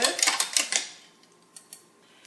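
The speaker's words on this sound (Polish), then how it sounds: "Mieszamy." A spoon stirs homemade lemonade with fresh lemon juice in a glass: a quick run of bright clinks for about a second, then a few sparse, fainter taps.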